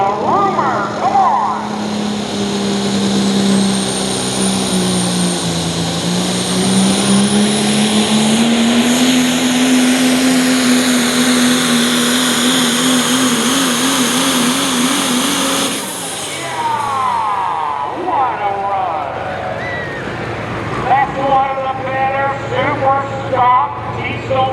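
Chevrolet superstock diesel truck making a pull at a tractor pull event, a long, loud, steady engine roar with whining pitch that builds for about fifteen seconds, then cuts off into crowd noise and an announcer talking.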